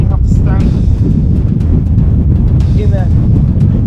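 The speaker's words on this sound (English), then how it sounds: "It's really windy, to be honest." Strong wind buffets the microphone at hilltop Roman ruins in Albania, a constant loud low roar throughout, with faint talk underneath.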